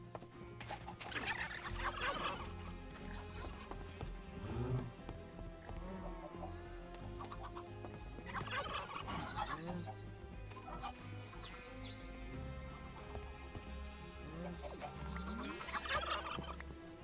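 Turkeys gobble repeatedly in a modded Minecraft homestead game, loud bursts recurring every few seconds among other farm animal sounds, with no talking.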